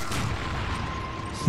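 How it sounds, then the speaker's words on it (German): An enemy blows up during Resident Evil 5 gameplay amid a dense, rumbling wash of combat noise, with a sharper burst at the very end. "Ich liebe es, wenn ein Eingeborener explodiert."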